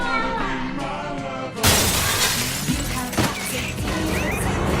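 A car windshield shatters as a dolphin crashes through it, a sudden loud burst of breaking glass that cuts into music and leaves a dense crackling spray of debris.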